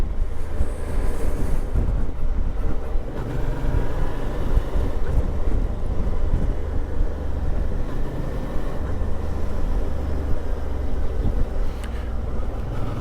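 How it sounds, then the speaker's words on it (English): A 2023 Suzuki DL650XT motorcycle engine runs continuously and loudly, a rough, throbbing mechanical drone with no break across the whole stretch. "That's me listening to the engine to see what the engine's doing."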